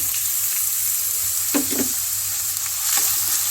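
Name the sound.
onions frying in hot oil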